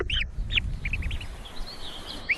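Ruddy shelduck calling near a cliff nest in Inner Mongolia, a few short nasal honking calls spaced irregularly over quiet ambient background, moderately distant and faint.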